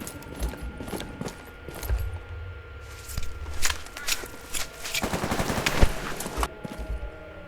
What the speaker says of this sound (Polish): Tam słychać już jakieś strzały.